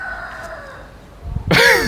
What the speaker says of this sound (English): You can hear the cock